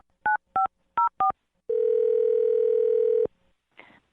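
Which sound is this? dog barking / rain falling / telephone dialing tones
telephone dialing tones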